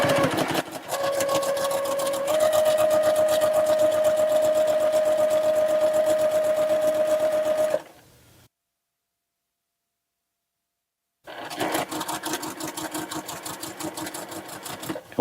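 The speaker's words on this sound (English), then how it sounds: "So now I need to sew a 1/4 inch from this line on both sides of the line." Sewing machine stitching quilt fabric, a loud steady rapid whir with a humming tone, stopping for a few seconds of silence before running again.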